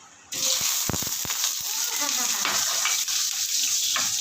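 Butter sizzling as it melts in hot cooking oil in a pan, a steady loud frying hiss starting abruptly and continuing throughout, with a few sharp clicks early on.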